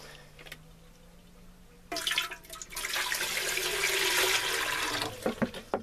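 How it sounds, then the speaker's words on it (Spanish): About a litre of water is poured into a container for homemade lime sulfur, starting after a quiet moment and running as a steady, close splashing gush for several seconds before tapering off. "voy a echar como un litro de agua o así"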